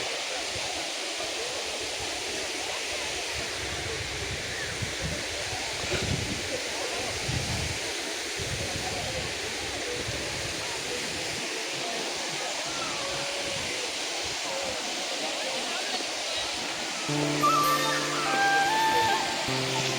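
Water rushing down Thatigudem waterfall as a steady broadband hiss heard from some distance, with a person talking near the end.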